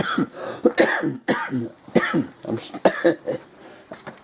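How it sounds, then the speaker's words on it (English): A run of harsh coughs and throat clearing, close to the microphone, coming in repeated bursts. "I'm still coughing a little."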